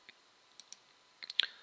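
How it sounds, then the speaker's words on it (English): Light plastic clicks of up and down arrow keys on a computer keyboard, pressed while panning a marine navigation chart: a few scattered single taps, then a quick close cluster near the end, faint and alone. "I'm moving the map down with my up and down arrow keys."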